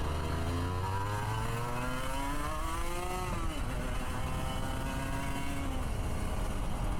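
A 1998 Aprilia RS250 two-stroke motorcycle revs up through the gears, its engine pitch climbing, dropping at a shift and climbing again, loud and close with steady wind noise and no talk.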